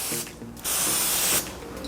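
Short, close hissing burst of cooking spray from a can coating an air fryer pan, preceded by a few faint clicks and handling knocks.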